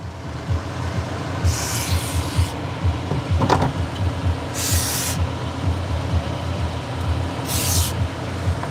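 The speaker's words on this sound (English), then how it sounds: "A little bit of WD-40." Three short hissing bursts of WD-40 aerosol spray on BMW E85 Z4 parts during an AC compressor and fuel pump job, separated by pauses over a low steady rumble, with a brief clank midway.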